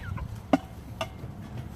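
Two short clucks from a small chicken on a farm as it is weighed, a louder call followed by a softer one about half a second later, heard close over a low background hum.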